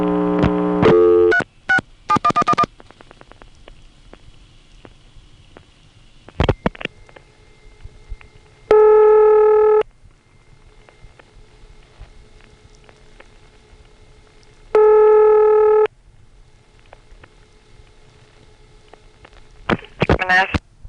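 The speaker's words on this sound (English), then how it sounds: "You can hear the essence of the ringtone between the ring bursts a little bit on this call." Telephone ringing heard down a line from an IBM Centrex: two long ring bursts separated by quiet stretches where a faint ringtone hum persists, framed by bursts of dialing and line clicks, with talk at the start.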